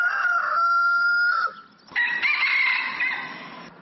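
A domestic rooster on Kauai crows a classic cock-a-doodle-doo, loud and close, in two bursts with a brief dip between and a long, drawn-out final note, with no talking.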